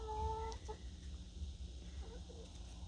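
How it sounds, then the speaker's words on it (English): Hens and a rooster in a chicken coop let out a few soft clucks and short calls. The sounds are faint and close by over low background noise. "Bought a couple hens and a rooster yesterday."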